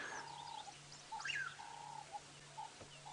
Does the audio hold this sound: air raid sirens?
no